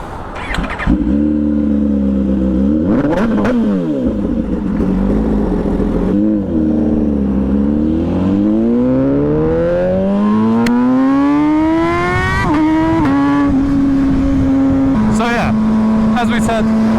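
An MV Agusta Brutale 1000 RR motorcycle roars loud and close as it is ridden, its engine note climbing and dropping through repeated revs and gear changes, then settling into a steady drone.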